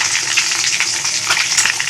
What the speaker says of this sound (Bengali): ডিমের ঝোলের জন্য ডিমটা ভাজতে দিয়ে দিয়েছি